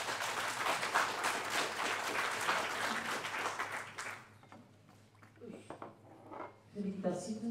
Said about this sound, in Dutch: Felicitaties voor dat applaus